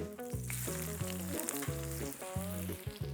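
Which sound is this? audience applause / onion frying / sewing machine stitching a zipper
onion frying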